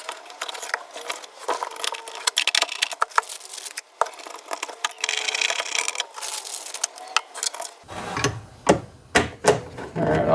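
Screws being driven into a pinball machine during an upgrade install, heard as a close run of clicking, ratcheting and scraping hand-tool turns with knocks, ending in a few louder thumps and bumps.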